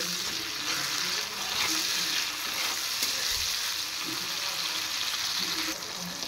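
Green chillies and tomato frying in a pan with salt, a steady close hiss of sizzling oil with occasional stirring scrapes, continuous and fairly loud.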